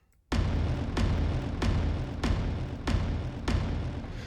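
Cinematic trailer hits from the Trailer Jumpstart library, heavy booming impacts struck about every half second in a steady series of six, each a loud full-bodied thud with a bright noisy crack, ringing together without pause.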